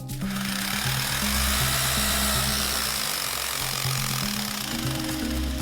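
A cheap hammer drill runs continuously with a steady mechanical whir and hum, its bit shaking, changing pitch slightly as it works, with no talking.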